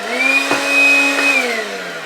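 Handheld Dust Buster vacuum cleaning a 3D printer, a steady close whine with a drone that dips briefly twice as the nozzle moves, then the pitch sags slightly near the end.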